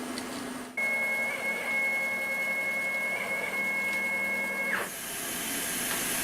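CNC router suffering from RF electrical interference starts up with a jump into a steady, loud whine with a bright tonal hum, runs evenly for about four seconds, then winds down and gives way to a hissy background.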